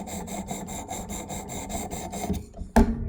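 A Benchmade Claymore knife blade is drawn over a Work Sharp Precision Adjust Elite sharpener in about a dozen even, rhythmic rasping strokes, ending with a sharp knock close by, no voices.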